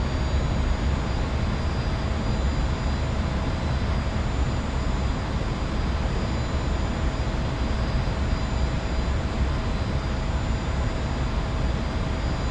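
A steady, loud roar of the F-86F jet engine in the DCS flight simulator persists unbroken for the whole stretch, with a faint whine running above it and no talk.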